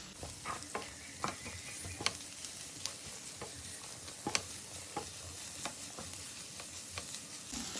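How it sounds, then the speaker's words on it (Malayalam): Spice powders, garam masala among them, roast in a pan for chicken roast with a soft continuous sizzle, while a spoon scrapes and taps the pan in irregular strokes, close and quiet, with no talking. "ഇപ്പോൾ നമ്മൾ പൊടികൾ നല്ലോണം മൂത്തിട്ടുണ്ട്"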